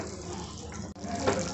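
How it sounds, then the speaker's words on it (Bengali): Hot water is poured into a cooking pot of simmering potol (pointed gourd) in a home kitchen, a steady splashing gush lasting a little over a second with a brief break midway. "গরম জল দিয়ে দিলাম"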